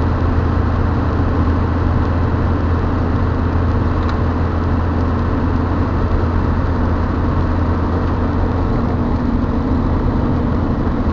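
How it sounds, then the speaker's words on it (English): A Dodge Ram Cummins diesel truck drones loudly and steadily while the exhaust brake is engaged, producing a constant low, heavy rumble with no break. "There's the exhaust brake."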